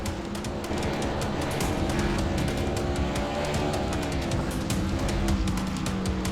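NASCAR trucks doing a burnout in iRacing at Las Vegas Motor Speedway, with continuous loud engine roar and steady tire squeal lasting throughout, no talk.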